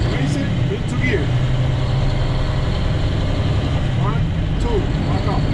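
Loud, steady low rumble of a heavy truck engine in ninth gear at about 35 miles per hour while the driver downshifts through the clutch. A voice is heard faintly under the continuous engine noise.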